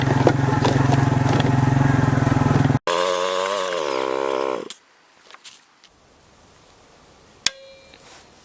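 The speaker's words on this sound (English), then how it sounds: "The chainsaw's teeth dig into the box." A chainsaw runs loudly beside an ATV toolbox, a harsh buzzing roar that shifts pitch as it revs, then cuts off abruptly, leaving near silence with a few faint clicks and a brief tone.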